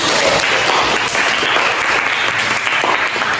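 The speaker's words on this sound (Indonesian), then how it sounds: "Oke, tepuk tangan dulu." Energetic group clapping from students in a school classroom, loud and continuous for the whole stretch with no talk over it.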